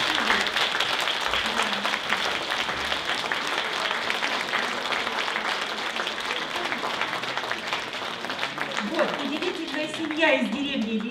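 A crowd at an outdoor accordion festival claps steadily for a long stretch, a dense even patter of many hands, with a voice and some musical tones coming through near the end.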